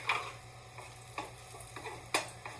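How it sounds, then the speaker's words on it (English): Garlic lightly browning in a pan for pork shank osso buco, a soft steady sizzle punctuated by several scraping stirs of a utensil, close and without talking. "So we want to just a light little browning on the garlic"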